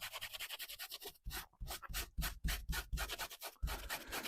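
Cotton fabric being rubbed hard over a stain treated with spray cleaner, a rough scrubbing sound in quick repeated strokes, close and fairly loud, with short pauses between bursts.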